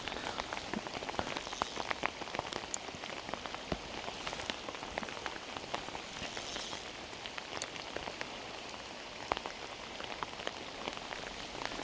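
Steady, dense rainfall patters on surfaces all around during an early-morning fishing trip, with scattered sharper drips standing out against the constant hiss.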